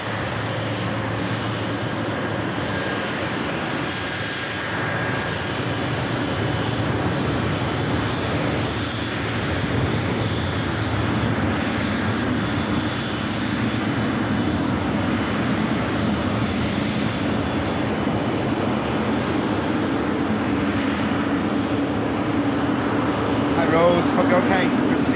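An Emirates airliner taxis at Manchester Airport, its engines giving a steady, broad roar and whine that holds throughout and swells slightly near the end, while a person talks over it.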